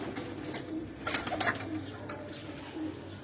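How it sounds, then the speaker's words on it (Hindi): Sialkoti breeder pigeons coo softly in a few low, throaty bursts, close but quiet, with faint rustling and other soft bird calls around them. "ये अब दोस्तों कुछ कबूतर नीचे आए हैं"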